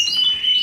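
Yorkshire canaries chirp in a canary room, a bright, high, sustained trilling warble that is loud and close but lasts only a moment.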